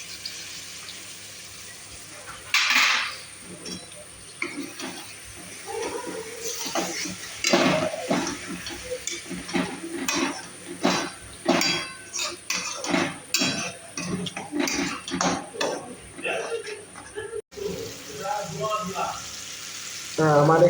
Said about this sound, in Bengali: এবার আমি টমেটো পেস্ট করাটা দিয়ে দেবো।